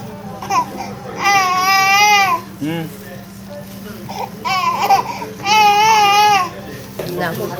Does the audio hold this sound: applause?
no